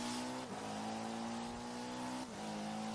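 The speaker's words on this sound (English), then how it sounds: "Let's do a little bit of drifting." Forza Horizon 4 car, a LEGO Speed Champions build, drifting around a race course: a loud, steady engine drone with a faint tire squeal, dipping briefly twice as the car slides, no voices.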